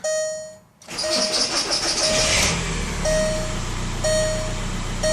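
A Volkswagen New Beetle engine cranks and catches after an alternator repair, then settles into a steady idle with a rough rumble, while a chime beeps repeatedly in the background.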